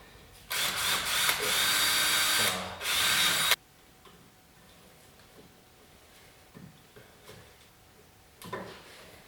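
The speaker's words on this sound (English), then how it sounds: "We're drilling out the rivet here." A power drill whines loudly for about three seconds while drilling out a rivet on a Polaris RZR front end, then stops, leaving quiet rustling and a brief final burst near the end.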